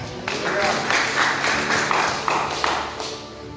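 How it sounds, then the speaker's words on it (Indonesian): A church congregation claps during a worship sermon, a dense patter of hand claps sustained for a few seconds with some voices mixed in. "Tepuk tangan dong buat Tuhan kita"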